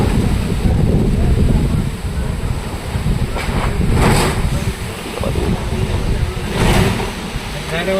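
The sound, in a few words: strong storm wind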